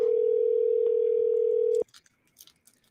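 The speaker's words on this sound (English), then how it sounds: "Can you hear the phone ringing?" A single steady telephone ringback tone sounds on an outgoing call during a live call-in show, lasting almost two seconds before it cuts off into near silence.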